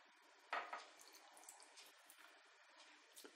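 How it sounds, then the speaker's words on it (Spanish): Water is poured into a stuffed hake dish while cooking, with a brief splash at the start followed by a soft, faint trickle and light dribbles, close by and quiet, with no talking. "Y añadimos también agua"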